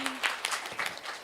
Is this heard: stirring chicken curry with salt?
no